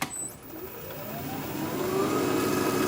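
Wood lathe spinning a thin-walled bowl, a steady whirring hum with a rising tone as it comes up to speed, close and fairly loud.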